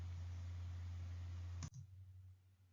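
A single sharp computer mouse click on an on-screen Find button, one crisp click heard alone after a steady low hum that drops away right after the click.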